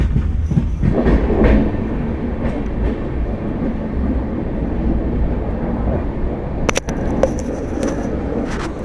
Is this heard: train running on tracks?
yes